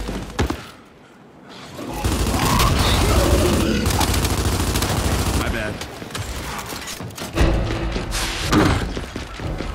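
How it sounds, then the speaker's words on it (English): A flash grenade detonating in the shooter Gears 5 during ranked King of the Hill, a loud sustained burst of blast and crackling noise amid gunfire, with a voice speaking over the battle. "Throwing flash grenade!"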